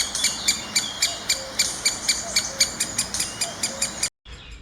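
Woodpeckers, likely juveniles at a nest hole in spring, call loudly in a rapid, regular series of about a dozen sharp high chirps, close by, ending abruptly in silence.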